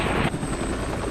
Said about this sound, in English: the rescue mission lifts off. 2 Super Stallion helicopters carrying 43 Marines are followed by 2 Cobra gunships and 4 Harrier jump jets